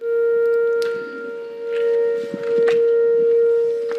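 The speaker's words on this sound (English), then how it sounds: "those are the sirens going off here in East Peoria." Outdoor warning sirens in East Peoria sound during severe weather, a steady, sustained tone wailing continuously, with faint rustling and distant noise underneath.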